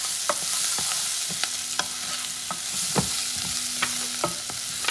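Sausages sizzling steadily in a pan for Louisiana-style beans and rice, with a constant frying hiss broken by sharp scrapes and clicks as they are stirred, close and fairly loud, no talking.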